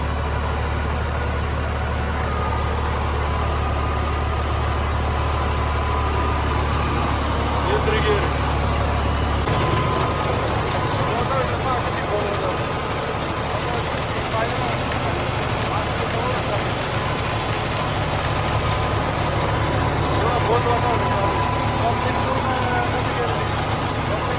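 A John Deere 5210 tractor pulling a rotavator through a field, its engine running as a loud, steady drone that continues without a break.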